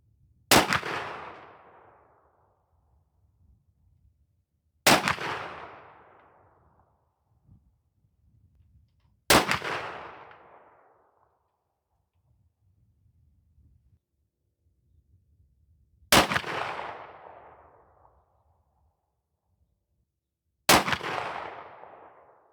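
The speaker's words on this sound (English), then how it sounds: "start shooting our 50 and 100-yard groups and see what we can get from these Hornady Custom Lite Sabo slugs through the 870 with that rifled barrel today" Five loud, sharp shotgun blasts from a Remington 870 with a rifled barrel firing Hornady Custom Lite 12-gauge 300-grain sabot slugs at a range, each crack ringing out and decaying, spaced several seconds apart with quiet between.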